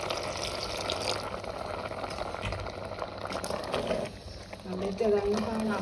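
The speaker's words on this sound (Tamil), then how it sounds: "நான் வந்து கொஞ்சம் தண்ணி எடுத்து போடுவோம்" Steady bubbling and sloshing as water is added to a cooking pot of South Indian food, continuous and close, with a voice talking over it near the end.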